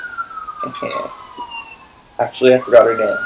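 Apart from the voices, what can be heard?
police car sirens outside the window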